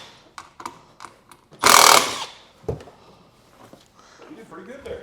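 A power tool, likely a drill or driver, backs screws out of a car radio and speaker mounting during a sound system install: one loud burst of whirring near the middle, with scattered clicks and handling noise and people talking around it.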